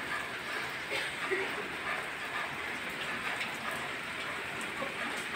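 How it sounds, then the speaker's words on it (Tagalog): Light drizzle patters softly and evenly outdoors, a faint, steady wash of fine raindrops with no talk over it. "Ambon na lang."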